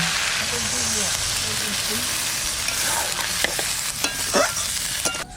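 A spice paste with vegetables and chillies, sautéed for a katla fish curry, sizzles steadily in a pan after a splash of water is added, with occasional spoon scrapes and clicks toward the end.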